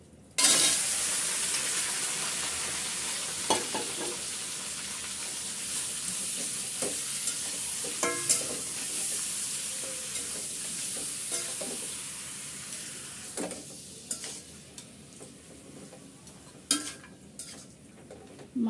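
A kilogram of bone-in meat with fat sizzles steadily in a pot while being made into porda biryani, with stirring and occasional clinks of a utensil against the pot throughout.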